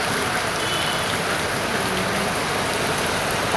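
Steady, dense hiss of heavy rain pouring down without pause, loud and close, with no voices over it.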